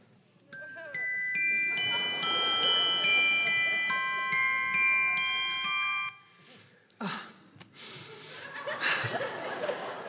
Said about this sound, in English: the delicate chimes are reminiscent of those little wooden toy pianos, like the ones Schroeder had on Peanuts